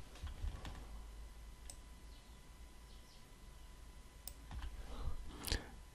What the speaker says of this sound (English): click and hold Alt on your keyboard